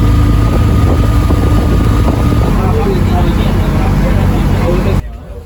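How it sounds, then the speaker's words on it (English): A boat motor drones steadily and loudly with water rushing alongside on the Kerala backwaters, the engine noise constant throughout before cutting off abruptly near the end. "we are now on our way to do a boat trip"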